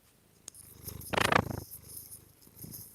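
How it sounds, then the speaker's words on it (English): A cat purrs intensely close up, a rough rhythmic rumble that builds into a strong burst midway, with a few soft clicks and rustles around it. "He's a very intense purrer when he starts purring."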